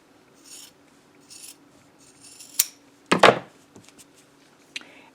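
Scissors snip through the cuff of a thermal camo shirt, heard as a few quiet, scattered crisp cuts with one louder, rasping snip in the middle and faint rustling of the fabric around them.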